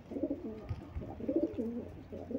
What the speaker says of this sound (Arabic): على الحمام دي، حمام زاجل يا جماعة